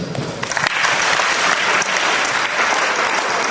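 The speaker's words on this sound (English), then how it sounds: "We give them a round of applause" An audience at a technology tournament awards gives a round of applause, dense clapping that swells quickly and continues evenly at moderate volume.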